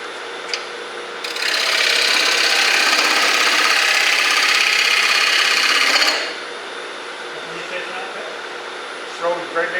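Hand plane drawn along a wooden board, producing one long, loud, steady rasping shave lasting several seconds before it cuts off, with quieter scraping and a few knocks around it.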